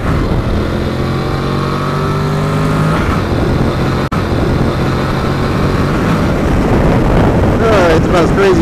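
A Honda NC750X motorcycle on a ride through parkland, its engine revving and rising in pitch as it accelerates, under heavy wind buffeting on the microphone.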